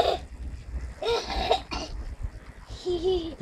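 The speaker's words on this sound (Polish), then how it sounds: "Tylko ten kaszel się nam nie podoba." A young girl coughs in short bursts while riding outdoors along a curb, the coughs loud and close, separated by brief pauses.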